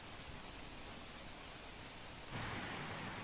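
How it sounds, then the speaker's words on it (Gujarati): Heavy rain pouring down in Surat, a dense steady hiss of falling water that grows noticeably louder in the final second, with no voices. "સુરત શહેરમાં વહેલી સવારથી ધોધમાર વરસાદ વરસી રહ્યો છે"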